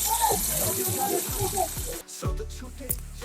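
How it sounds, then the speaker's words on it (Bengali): Water rushes and splashes from a decorative waterfall at an amusement spot in Rangpur, a continuous close gush with voices talking over it. "খুলে চলি খুব সুন্দর একটি ঝর্ণা।"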